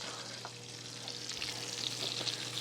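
Slices of venison liver frying in a mix of butter and oil, a soft, steady sizzle with faint crackles, fairly quiet and continuous throughout.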